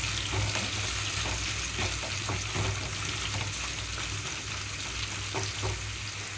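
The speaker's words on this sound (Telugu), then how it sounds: "ఇక్కడ లో నుంచి మీడియం ఫ్లేమ్లోకి అడ్జస్ట్ చేసుకుంటూ కాకరకాయ ముక్కలన్నీ కూడా వేయించుకోవాలి" Bitter gourd pieces frying uncovered in a pan over a medium flame for karela fry, a dense continuous sizzle with occasional light stirring scrapes, close and steady.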